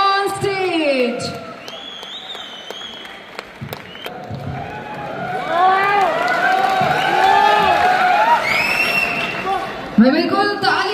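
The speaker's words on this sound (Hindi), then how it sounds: "बिल्कुल तालियां बजती रहनी चाहिए, तालियों के साथ म्यूजिक हो जाए।" A stage event audience applauds and cheers a guest's entrance, with steady clapping and whoops under a loud voice and music throughout.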